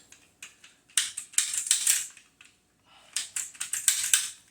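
A hand cutter snaps and crunches through PVC pipe in two bursts of sharp, close clicking and cracking with a pause between them.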